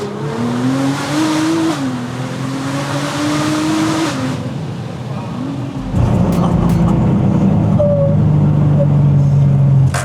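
A Nissan GT-R engine and exhaust on a track, first a steady, droning revving engine, then a louder, deeper exhaust roar with crackles, close by, with voices talking over it.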